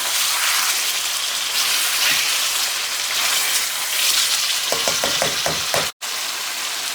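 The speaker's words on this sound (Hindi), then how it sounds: "अब हमारी योगर्ट और टमाटर जो बहुत अच्छी तरह से भुन गए हैं चिकन के साथ, ऑयल बिल्कुल सेपरेट हो गया है।" Chicken frying in oil with yogurt and tomatoes for an Afghani karahi, giving a steady, dense sizzle with a few light stirring clicks near the end.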